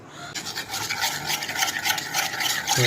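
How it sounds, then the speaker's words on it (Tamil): Homemade baby porridge mix being stirred into water with a spoon, a steady scraping, rubbing rhythm close by, continuous for the whole stretch. "நல்லா மிக்ஸ் பண்ணி விட்டுருங்க."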